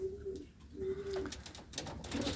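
Racing pigeons recovering from salmonella treatment coo in two low, sustained calls, one at the start and one mid-way, followed by rustling and a softer burst near the end, without any talking.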